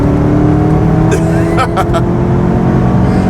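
A loud 650 hp Corvette C7 Z06 engine drones steadily at close range, with a few brief sharp revs and clicks cutting through the continuous rumble.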